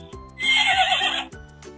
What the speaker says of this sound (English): Shall we play the sound for the horse?